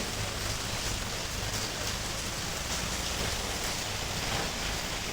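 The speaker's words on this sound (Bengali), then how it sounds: "আর বাইরে অনেক বেশি বৃষ্টি হইতেছে" Heavy rain pouring outside a village home, a dense, steady hiss with no breaks, no voices and no other distinct sounds.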